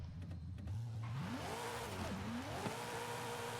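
Drifting car in the Forza video game, engine rising and falling in pitch through repeated revs as tires scrub sideways, a continuous game sound with no talking.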